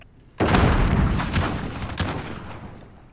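AK rifle fire in the video game Modern Warfare 2020: a single loud, close boom that rolls into a long, decaying rumble for a few seconds.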